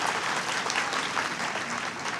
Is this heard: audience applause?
yes